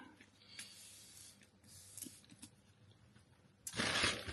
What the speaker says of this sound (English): So just a spray of that.